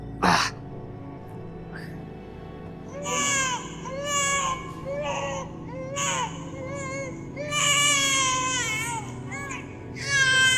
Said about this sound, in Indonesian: Ada suara bayi sama tangisan perempuan.